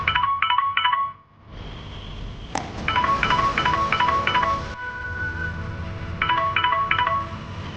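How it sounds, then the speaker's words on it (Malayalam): A mobile phone rings in an audio drama scene, playing a repeating electronic tone pattern in short bursts of three or four pulses, close and clear, with a brief drop to near silence early on and a low background hum. "അപ്പോഴേക്കും അവന്റെ ഫോൺ റിങ് ചെയ്തു"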